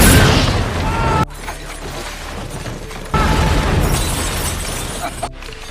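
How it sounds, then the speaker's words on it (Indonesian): A bazooka explodes in the film The Book of Eli, two loud, close booming blasts with crackling debris and shattering, separated by a quieter stretch of rumble. "awalnya si nenek duluan tewas karena bazooka"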